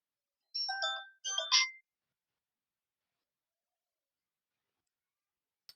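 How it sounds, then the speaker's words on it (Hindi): A short electronic phone ringtone melody plays in two quick bursts, then silence, with a faint blip near the end. "फोन कब से लगावत है उठावत ना है"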